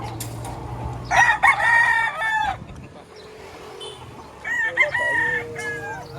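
Roosters crow in bursts over a low background hum at a chicken market in Batangas, with two loud nearby crows separated by a pause and occasional clucking.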